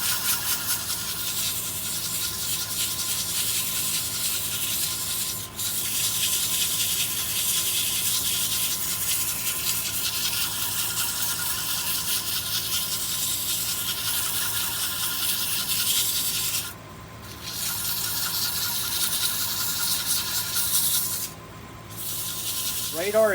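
A wooden bowl being sanded with 100 grit abrasive, giving a steady, continuous hissing rasp close up with two brief pauses near the end, no voice over it.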